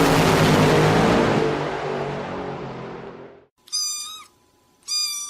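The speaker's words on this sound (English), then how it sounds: "Oh, the sound of a tiny kitten." A tiny kitten gives two short, high meows close by, each clear and alone after a loud broadband noise fades out.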